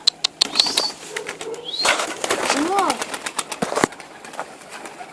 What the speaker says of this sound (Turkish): Kuşlar inmeye çalışıyor.